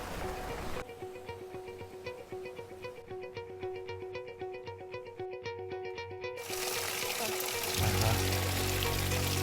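Mountain spring water pouring and trickling along a hiking trail in the Carpathian mountains near Kolochava and Synevyr, a close, steady splashing flow with a brief rush of louder noise near the end.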